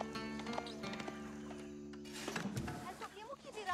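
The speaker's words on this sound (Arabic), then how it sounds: "كشاف أصعد على ظهر الحصان" Mounted scout's horse in Age of Empires IV, clip-clop hooves and a short whinny under a game voice line, busy close-up game sound effects layered over the hoofbeats.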